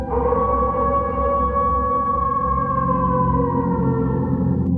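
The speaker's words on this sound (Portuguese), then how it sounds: "Naquele momento, o cachorro começa a uivar novamente." A dog howls in long, wavering, rising-and-falling cries over a dense low rumble, loud and sustained throughout, used as an eerie effect in a Portuguese horror story about truck drivers.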